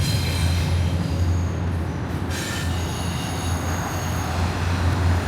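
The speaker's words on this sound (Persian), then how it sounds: "اینا اون قطار کوچولو یا فونیکولاره که قراره باش بریم بالا" Duquesne Incline funicular railway car in Pittsburgh, loud steady rumble of the running car with sustained metallic wheel squeal throughout, no talk.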